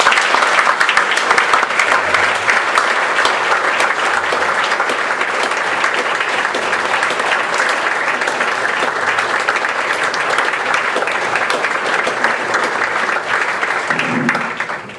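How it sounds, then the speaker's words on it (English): A large crowd at a sports hall of fame luncheon applauds loudly and steadily, the clapping sustained without pause before tapering slightly at the very end. "Let's give them one more round of applause."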